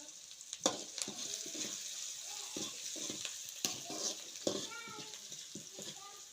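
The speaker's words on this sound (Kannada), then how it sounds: "ಇವಾಗ ಈರುಳ್ಳಿನ ಚೆನ್ನಾಗಿ ಎಣ್ಣೆಯಲ್ಲಿ ಫ್ರೈ ಮಾಡಬೇಕು" Onions frying in oil in a home kitchen cooked on a traditional wood-fired stove, with a steady broadband hiss and crackle, occasional louder pops and stirring clatter, and a cat meowing several times in the background.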